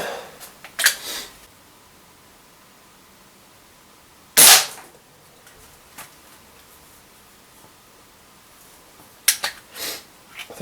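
Gunshots from a .45 Contender pistol at a shooting range, three sharp, loud reports spaced several seconds apart over quiet background, no talk.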